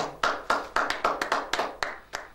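A church congregation claps in acclaim of the Lord during an intercession service, about a dozen sharp, close hand claps in an irregular quick rhythm over a couple of seconds, with no voices.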